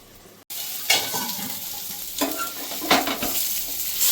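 A chicken burger patty fries in a pan, a bright continuous sizzle that swells as it is stirred or shifted, with faint utensil scrapes and no talking.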